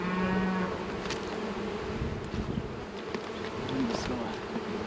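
Honeybees swarm and drone loudly around an opened hive as brood frames are lifted out during a late March inspection, a dense steady buzz filling the whole stretch with a few lower hums mixed in.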